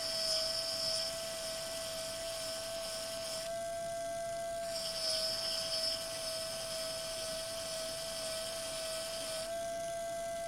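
A modified pedicure wand sands away scratches, its thin, high, steady whine rising into two longer grinding passes under light pressure and easing between them, close and fairly quiet.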